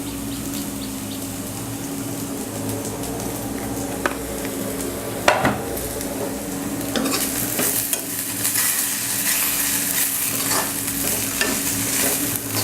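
Potato and bitter gourd, seasoned with turmeric and salt, fry in a pan Nepali style, giving a steady close sizzle with repeated scraping and clacking stirs throughout, and a few sharper knocks against the pan.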